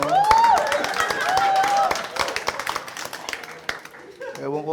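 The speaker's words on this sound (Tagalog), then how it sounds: "Ewan ko, ba't kayo pumapalakpak?" A stand-up comedy crowd claps at a live show, with scattered applause running under a comedian's talk and laughter.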